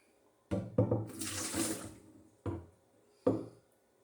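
Hot water is poured into a measuring cup and rinsed out into a carboy while making apple wine, heard as a few short splashing pours with quiet gaps between them.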